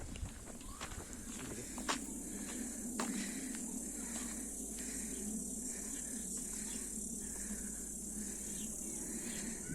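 Crickets and insects chirp steadily outdoors in the countryside of Kulp, Diyarbakır, in a continuous high buzzing chorus, with a few soft rustles and taps nearby.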